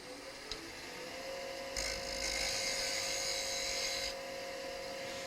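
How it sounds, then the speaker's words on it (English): Woodturning gouge hollowing a small wooden birdhouse ornament on a lathe: a steady whirring hum with a high, thin scraping whine that rises partway through and holds for a couple of seconds, heard close with no talk. "now I want to do a little bit of hollowing there."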